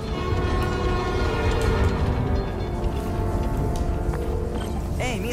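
A subway train starts up in the video game Spider-Man: Miles Morales, a loud, steady rumble and rail clatter that fills the whole stretch, with a faint rising whine near the end.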